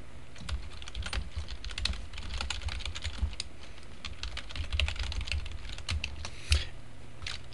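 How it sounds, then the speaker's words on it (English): Computer keyboard typing while a forum post is written, a steady run of quick, light key clicks with a few louder taps, close and alone with no voices. "I can start writing whatever I want."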